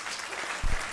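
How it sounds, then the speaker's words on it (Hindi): Audience applause at a Hindi poetry recitation about the Ganga, a short burst of clapping rising loud near the end of the moment after a steady hum of the hall. "एक बार तालियां बजा दीजिए"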